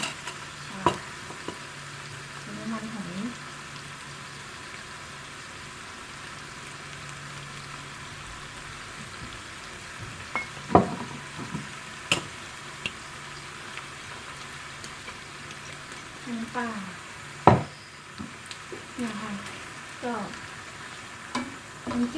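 Minced pork with holy basil stir-fries in a pan with a continuous crackling sizzle, punctuated by irregular clinks and scrapes of a spatula against metal.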